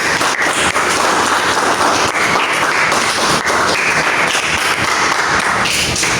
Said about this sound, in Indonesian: Oke, tepuk tangan semuanya buat Rizka.